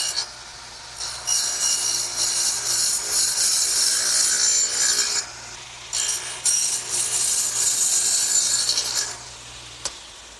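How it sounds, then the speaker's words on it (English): A wooden workbench leg being cut with a dado for a shelf, sounding as rough, rasping strokes of a blade across the wood in two long bursts with a short pause between and a small knock near the end. "now let's turn it over and dado out for the shelf"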